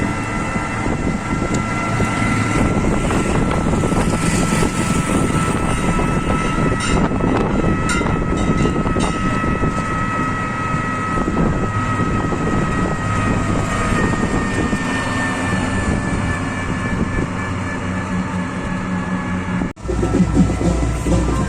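A train rumbles past a closed village level crossing in a steady, loud, continuous roar with rattling wagons and some clanks, heard from close by with no talking.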